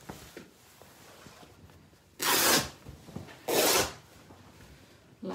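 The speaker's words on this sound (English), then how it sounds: "So I'm going to just roughly cut this piece off." Scissors roughly cut through fabric for a sewn shopping basket, giving two distinct loud snipping rasps close up over a quiet background of faint handling rustles.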